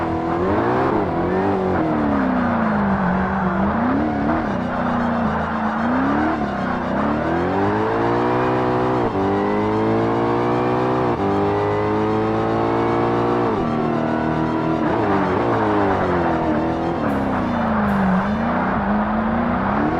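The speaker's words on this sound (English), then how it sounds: "this Koenigsegg gets up to speed very quickly, so I can easily just make up ground again" A Koenigsegg in the racing game Forza Motorsport accelerates hard, its engine note rising and falling through repeated gear changes, loud and close throughout with no talking.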